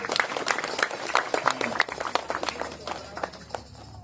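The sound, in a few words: audience applause for a costume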